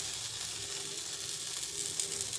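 Oil sizzles steadily around a moong bun dosa on a hot pan, a soft continuous frying hiss with no voices.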